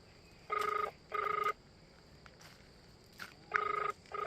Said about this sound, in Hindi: किसका फ़ोन आ रहा होगा यार?